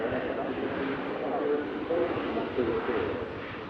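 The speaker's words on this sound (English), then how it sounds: "Just touching down from Frankfurt, Lufthansa" A Lufthansa Airbus A320 arriving from Frankfurt lands at Manchester Airport with a steady, broad jet rumble at moderate distance. Someone talks over it throughout.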